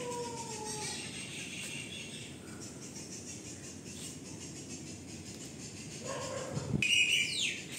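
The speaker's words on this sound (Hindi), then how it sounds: "बहुत सारे पक्षी हैं यहाँ पे, चिड़िया, और आवाज़ भी कर रहे हैं" Many small birds chirp and call outdoors around midday, with a few faint whistled notes and a brief flutter scattered over steady broadband background noise.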